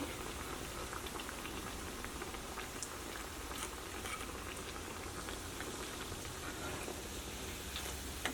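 Egg cutlets deep-fry in hot oil over a high flame, giving a continuous, dense, fine bubbling crackle that stays fairly quiet and even throughout.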